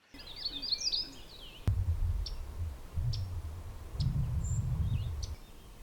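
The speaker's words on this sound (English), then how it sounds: "I swear there's a magnolia warbler in every tree." Magnolia warblers sing from trees along a quiet side road, a short, faint high song at the start followed by a few sparse chirps over low rumbling background noise.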